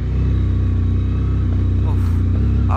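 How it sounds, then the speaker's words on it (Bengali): Motorcycle engine labouring up a rough uphill mountain road on the Singge La pass route in Ladakh, a loud, close, continuous low drone with a steady throb. A voice speaks briefly over it. "বাইকের আওয়াজ আপনারা শুনে বুঝতে পারছেন যে কি অবস্থা রাস্তাটা রয়েছে এখন এই মুহূর্তে।"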